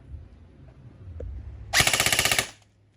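A black Double Bell M4 airsoft rifle, model 079, fires a rapid full-auto burst of about fifteen shots lasting under a second, loud and close, after a quiet lead-in and with no talk.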